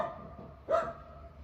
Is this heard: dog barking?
yes